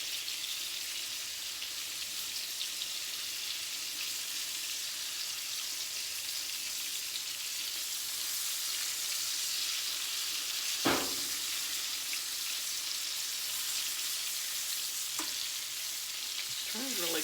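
Deer steaks frying in a pan give a constant, dense sizzle and crackle that runs the whole time, with a couple of sharp clinks or knocks partway through and no talking.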